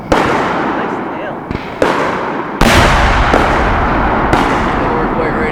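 Leftover-star fireworks shells burst one after another outdoors, several loud booming explosions with crackling tails overlapping in close succession.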